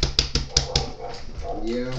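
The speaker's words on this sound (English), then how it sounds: "Michael, please shut up your dogs" Dogs bark in sharp repeated bursts through a gamer's voice-chat microphone, several quick barks in the first second, while a voice talks over them.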